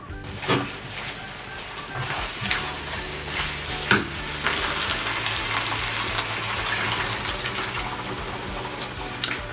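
Ground masala paste thinned with water is poured into sizzling chicken for chicken sukka, giving a steady loud frying hiss with splashy pouring and stirring knocks throughout.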